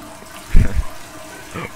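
A toilet flushes in the video game SOMA, a short loud low gush of water lasting about a third of a second, then fading to quiet room tone.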